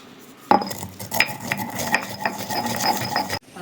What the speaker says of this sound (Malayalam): ഇടിയെല്ലോട്ട് ഞാൻ ഇട്ട് കൊടുക്കുകയാണ് ഈ വറുത്ത് വെച്ചിരിക്കുന്ന ഉലുവയും കടുവും.